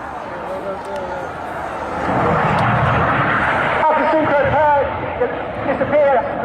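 Red Arrows RAF jets flying a display at the Teignmouth airshow, a broad steady roar that swells louder midway, with crowd and commentary voices audible beneath it.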